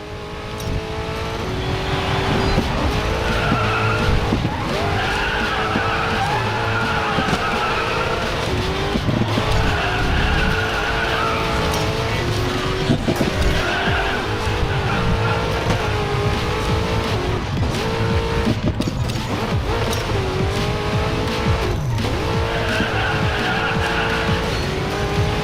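A racing car in the Racing Master video game, the base model of Kirito's car, drives loudly and steadily, its engine revving with shifting pitch and tyres squealing and skidding through turns throughout.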